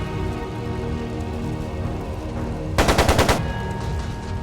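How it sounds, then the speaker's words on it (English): Machine gun fire in the video game Trails of Cold Steel II: a short, loud rapid burst of shots cutting through a steady background hum and music. "It sounded like a machine gun."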